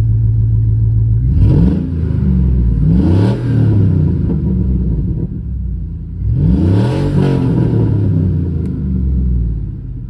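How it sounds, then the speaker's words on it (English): A tuned car, traded for a $700 Acura Integra, with a gnarly exhaust leak, revs hard several times, each loud close engine surge rising and falling with a raspy exhaust rumble between blips. "It has a very gnarly exhaust leak."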